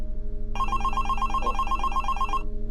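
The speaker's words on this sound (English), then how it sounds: "When the phone rang," A telephone rings with a rapid trilling bell that starts suddenly and lasts about two seconds over a steady low hum, with no voices.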